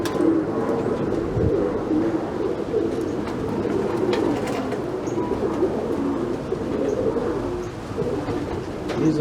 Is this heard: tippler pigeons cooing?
yes